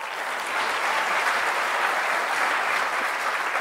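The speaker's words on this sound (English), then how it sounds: "One more round of applause, ladies and gentlemen, for that inspiring, enlightening, challenging, beautiful speech" A Teachers Day audience applauds loudly and steadily after Gautam Adani's speech, a dense wash of many clapping hands that swells and holds.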